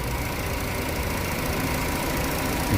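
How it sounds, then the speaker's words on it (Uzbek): A propane-fitted car engine idles with a steady, even hum, no vibration, no stumbling or change in pitch, close by and alone. "Hech qanaqa vibratsiyasi ishlayapti motor"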